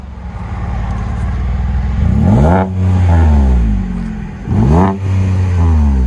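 A 2022 Chevy Colorado with a 3.6L V6, MagnaFlow MagnaPack exhaust and stock resonator, idles with a deep drone, then revs sharply twice, each throttle blip rising and falling loudly and up close.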